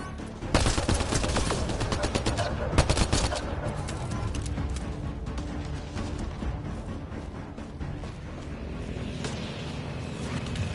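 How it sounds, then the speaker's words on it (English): Sustained gunfire in the Mass Effect Andromeda video game, dense rapid bursts of shots and impacts running throughout with loud volleys near the start, amid a busy battle mix. "He's shooting at somebody."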